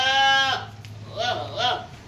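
A male kid goat of the Hyderabadi breed bleats up close: one long wavering cry, then a short pause and two shorter bleats in quick succession.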